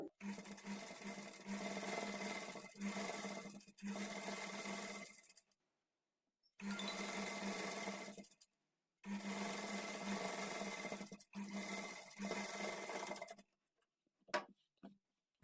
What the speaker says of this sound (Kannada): ಈ ಥರ ಲೈನಿಂಗ್ ಕಡೆ ತಿರುಗಿಸ್ಕೊಂಡೇ ಸ್ಟಿಚ್ ಮಾಡ್ಕೊಳ್ಳಿ